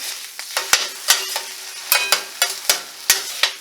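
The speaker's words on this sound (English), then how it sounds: "throw your eggs on. Scramble your eggs up." Eggs scrambled with a spatula on a hot hibachi griddle: a steady sizzle broken by about a dozen sharp metallic scrapes and taps in an uneven rhythm, close and fairly loud, with no talking.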